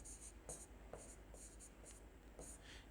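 A pen taps and scratches dots onto paper, short quiet strokes in an irregular rhythm, close and faint against a low background hum.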